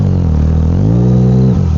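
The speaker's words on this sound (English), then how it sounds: "Gotta keep the revs up, don't intake that water." A Yamaha MT-09 motorcycle holds high revs as it rides through deep water, the engine droning loud and steady with a rising pitch before it drops briefly near the end.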